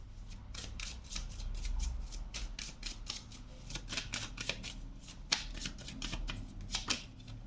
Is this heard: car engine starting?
no